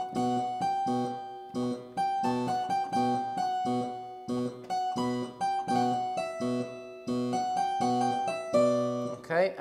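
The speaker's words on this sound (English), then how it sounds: "which is played on solo violin with another pedal note on the tonic" Solo violin plays a Bach episode over a sustained tonic pedal note on B, a steady rhythmic figure of repeated bowed notes with the low pedal recurring, heard alone and close.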